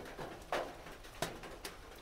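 Pigeons kept shut inside a room coo softly in a few brief, faint calls set against quiet background hiss.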